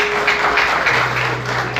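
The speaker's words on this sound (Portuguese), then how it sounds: "Vamos aplaudir Jesus mais forte" Dense crowd applause at a church service, a steady wash of many hands clapping together, loud and sustained from start to finish, with a faint tone running underneath.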